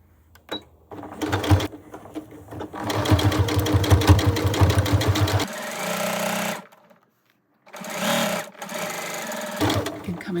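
A sewing machine stitches slowly over the zip of a zippered cushion made from a quilt block, in several loud mechanical bursts separated by short pauses.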